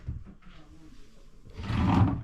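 A drawer in a holiday flat in Blackpool slides and knocks shut, a fairly loud wooden rumble and thud near the end after quieter movement, with no one speaking.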